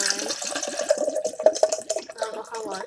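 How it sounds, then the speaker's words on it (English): Cold water pouring into a container for a homemade potion, a close gurgling, trickling stream running for a few seconds. "put some water in"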